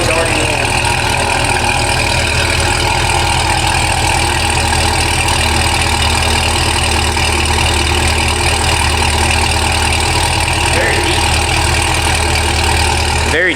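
A Cadillac CT5-V fitted with headers and its stock muffler idles, warm, close by, giving a deep, loud, steady rumble throughout.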